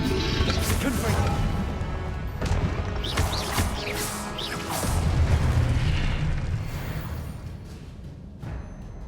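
Explosive Confringo spell blasts in Hogwarts Legacy, booming bursts and crashing impacts thundering through dense combat noise across the whole span, with a heavy surge midway and a sharp hit near the end.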